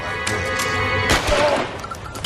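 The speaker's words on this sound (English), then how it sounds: "Gunshots, keep them down." Gunfire in the detective video game L.A. Noire: a couple of sharp, loud shots and a short burst over a steady background hum, close and abrupt.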